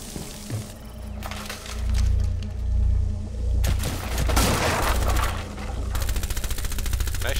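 Gunfire in Rainbow Six Siege during a Bank team deathmatch, loud bursts of automatic fire with sharp cracks and booms, and rapid rattling shots near the end.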